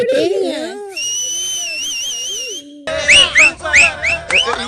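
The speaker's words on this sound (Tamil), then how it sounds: "விசில் அடிச்சு கை தட்டுறீங்க" A crowd of people whistles loudly in an indoor house, with sharp rising and warbling whistles up close, some of them long and steady, followed by bursts of rapid whistling; the clapping is not clear.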